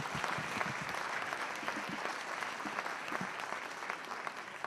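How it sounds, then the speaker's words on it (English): Sustained audience applause fills the whole stretch, a dense steady wash of many hands clapping at an even loudness with no voices rising above it, following a motivational talk on achieving goals. "Let's give him another round of applause."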